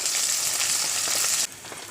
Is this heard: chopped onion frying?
yes